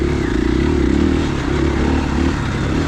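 A 2021 KTM 500EXCF dual-sport motorcycle running on a dirt trail at Johns Peak OHV, a close, steady engine drone with constant rumble and clatter and no speech.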